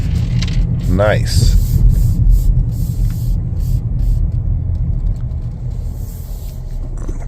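A 2025 Chevrolet Equinox LT drives on the road with a steady low engine and tyre rumble inside the cabin, while a person briefly speaks over it.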